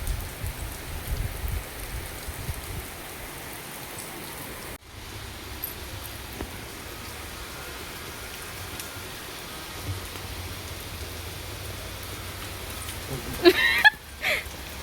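Steady rain falls throughout the afternoon in an outdoor setting, a continuous soft hiss with a brief louder burst of nearby noise near the end and no talking.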